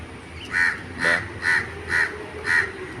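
A crow caws five times in a steady rhythm, harsh and fairly close, over quiet outdoor background beside a market.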